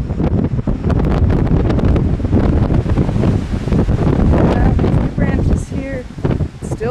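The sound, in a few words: strong wind during Hurricane Earl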